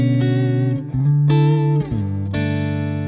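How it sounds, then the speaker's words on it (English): A clean electric guitar, a Gretsch Jet on its neck pickup, plays sustained, warm chords with a light wash of reverb, several strums letting each chord ring out. "I've got the Strum and Flint on for just a little bit of reverb"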